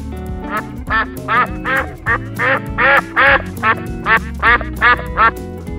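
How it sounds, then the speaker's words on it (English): A farm duck quacks in a rapid series of about a dozen loud, evenly spaced nasal quacks, close up over soft background music. "Duck."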